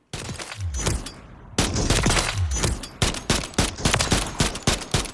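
A KVD Enforcer fires in Call of Duty Modern Warfare III, with loud, close gunshots in short bursts: a couple of spaced shots, then a quicker run of sharp cracks, each with a brief echoing tail.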